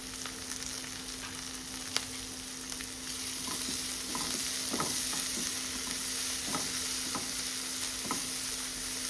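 Chopped onion and chili fry in a pan with a soft, even sizzle, joined by scattered light scrapes and taps of stirring, close and fairly quiet over a steady hum.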